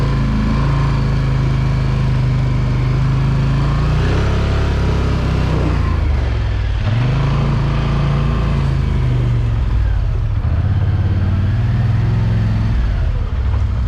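A game vehicle drives over snow with a steady, loud engine drone that rises and dips in pitch as it revs, filling the whole stretch with no talk over it.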